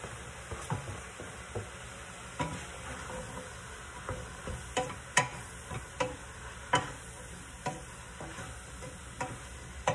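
Roma tomatoes go into a pan while picadillo cooks. Soft sizzling continues underneath, broken by scattered light clicks and stirring taps at irregular intervals. No talking.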